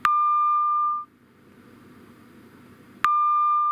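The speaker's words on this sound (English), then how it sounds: "Oh, it's just the beeper." A train TPWS alert unit beeper sounding a loud, steady electronic tone for about a second, then a quiet gap with faint background hum, and the tone starting again sharply near the end.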